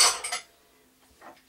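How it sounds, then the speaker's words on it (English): Ceramic bowls and kitchen items clatter and clink as they are pushed together into a corner of a soap-making workspace, a short burst of close knocks followed by quiet and one faint later clink. "let me throw these bowls and things in one corner here"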